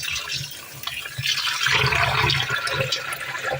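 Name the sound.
cold water poured over pork meat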